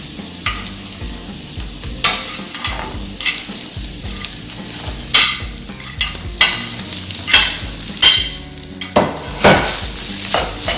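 Cooked rice pressed and stirred into nearly set egg in a hot pan for fried rice, giving a continuous sizzle broken by repeated sharp scrapes and knocks of the utensil against the pan, close and fairly loud with no talking.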